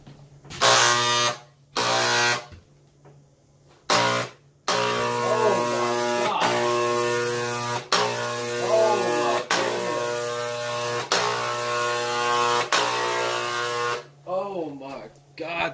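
A Kraus & Becker electric paint sprayer buzzes in loud, harsh bursts, switched on and off several times before running steadily, with a person talking over it.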